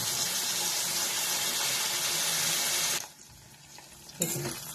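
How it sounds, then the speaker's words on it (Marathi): Raw tomato roasting in a pan over a high gas flame, giving a steady loud sizzle and hiss for about three seconds before it drops away to quieter stirring and scraping noises. "टोमॅटो चांगला भाजून घ्यायचा. आता गॅस मोठाच ठेवा, म्हणजे चांगलं भाजेल."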